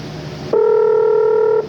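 Telephone keypad dialing tones ring out clearly for about a second before a prank call, steady and loud after a brief stretch of background noise.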